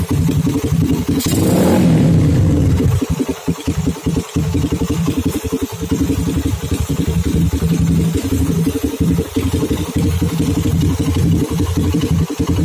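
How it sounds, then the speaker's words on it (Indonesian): A Suzuki Satria FU motorcycle engine idles loudly and steadily, with a clattering, uneven rumble from a noisy carburetor and a brief rev near the start. "Ini suara karburator berisik banget ya."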